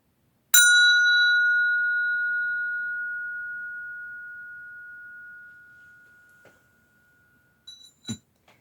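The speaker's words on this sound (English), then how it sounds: "I'm going to ring the bell." A single bell is struck once and rings with a long, clear, pure tone that slowly fades over several seconds, followed by a few soft knocks near the end, with no talking.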